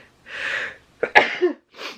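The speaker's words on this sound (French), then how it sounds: "j'ai envie d'éternuer." A single sneeze with a sharp intake and burst, preceded and followed by soft breathy sounds, close to the microphone.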